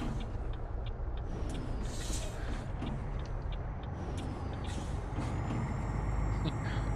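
Heavy truck in Euro Truck Simulator 2 braking hard, with a loud sustained air-brake hiss over steady low engine rumble, continuous throughout and up close.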